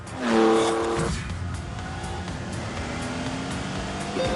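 A Lamborghini Countach with a 48-valve 5.2-litre V12 drives past, its loud engine surging near at first and then settling into a steady, slightly distant drone.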